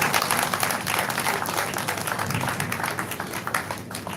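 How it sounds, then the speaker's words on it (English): Lecture audience at the 27th Annual Faculty Lecture of the Faculty of Ophthalmology welcomes the speaker with sustained applause, a thick wash of many hands clapping at moderate volume that slowly thins toward the end. "Please, can we make the applause a bit generous?"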